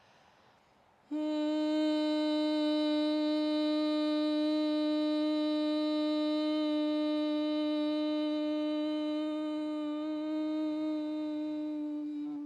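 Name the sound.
higher pitched humming voice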